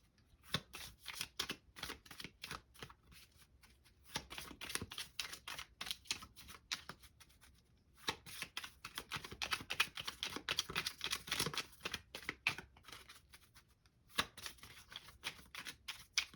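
Oracle deck cards are shuffled repeatedly in quick riffling bursts, with brief pauses between rounds, close and fairly quiet.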